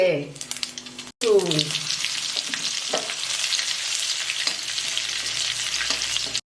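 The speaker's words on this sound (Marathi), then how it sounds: "तेल गरम झालंय आता मोहरी घालू" Mustard and cumin seeds frying in hot oil in a kadai, a loud, close, continuous sizzle that starts abruptly after a short gap, with a voice briefly heard at the start.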